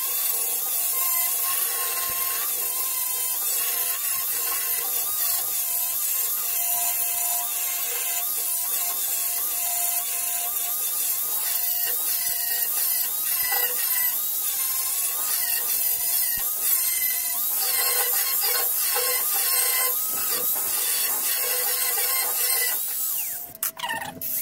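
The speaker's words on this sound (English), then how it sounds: "I'm going to grind it now, grind it back and see if there's any pinholes" Angle grinder grinding back a welded floor patch on a Classic Mini, a continuous harsh abrasive whine and rasp that runs steadily and loud throughout, alone with no talk.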